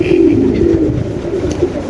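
Pigeons coo at a crowded pigeon market, several soft rolling coos repeating close by, with faint murmurs of people in the background.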